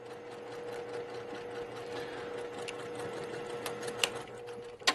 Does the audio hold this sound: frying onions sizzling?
no